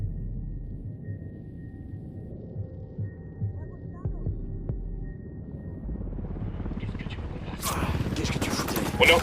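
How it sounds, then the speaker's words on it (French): A helicopter in the video game Ghost Recon Wildlands throbs as a low, pulsing rumble that swells louder and brighter toward the end. "Un hélico, tous à terre."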